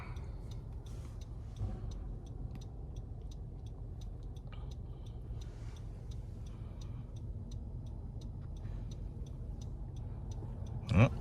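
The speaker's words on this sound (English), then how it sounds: "keep the signal on. You don't turn off the signal." Car turn signal indicator ticking steadily inside a moving car during a lane change, a regular soft click over low road and engine hum.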